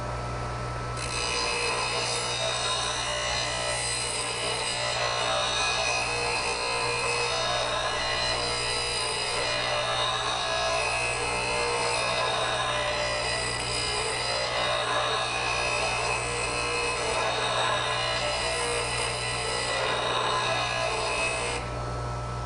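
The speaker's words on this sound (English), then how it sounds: "When you're grinding this tool, I find that the corners tend to grind slower than the belly of the tool." Woodturning tool ground on a bench grinder with a sharpening jig: a continuous, even rasping grind holding steady for over twenty seconds beneath a constant low motor hum.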